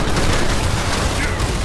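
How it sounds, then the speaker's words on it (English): Lava bomb explosion in the video game Evolve, a dense loud blast of booming, rumbling noise filling the whole brief moment. "No, the lava bomb hit."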